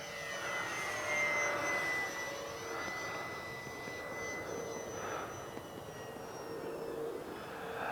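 An Arrows P-51 Mustang 850mm RC model airplane flying outdoors, its small electric motor giving a steady high whine that rises and falls in pitch as it passes, moderately distant, with faint wind and no talking.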